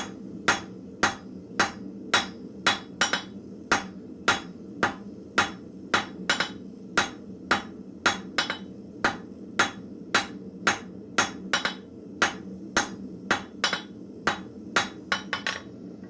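Steel being tapered at a blacksmith's forge under a steady run of sharp hammer blows, about two strikes per second with brief pauses, loud and close with no talk.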